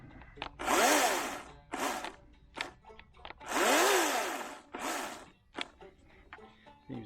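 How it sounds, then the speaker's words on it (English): A small Ryobi 40V battery chainsaw with a 14-inch bar whirs up and winds down in several bursts, two longer runs and a few short blips, close by, with slight hesitation. "This is a Ryobi, little Ryobi chainsaw"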